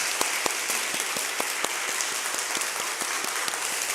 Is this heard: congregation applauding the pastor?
yes